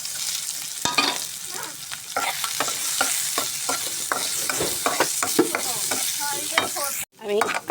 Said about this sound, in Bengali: এখন আমি পেঁয়াজ দিয়ে দিব, আর কয়েকটা কাঁচামরিচ দিয়ে দেবো।